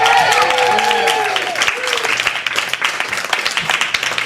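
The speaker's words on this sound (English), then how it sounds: "let's just go and give Derek Humphreys another round of applause for his first time here" Comedy club audience applauding a comedian at a cabaret night, a crowd's clapping rising under a loud voice speaking at first, then continuing as a dense, slightly uneven patter.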